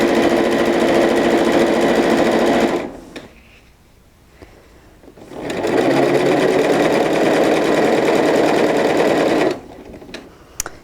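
Sewing machine running in two long, steady bursts while stitching a quarter-inch seam down a table runner border, with a short pause between them; close, loud and continuous, no talking.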